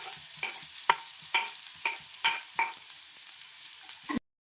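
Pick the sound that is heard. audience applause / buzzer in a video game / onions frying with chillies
onions frying with chillies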